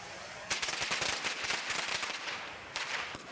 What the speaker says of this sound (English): Harry's worried the firecracker won't be loud enough, so of course it's down to Peter to try it out.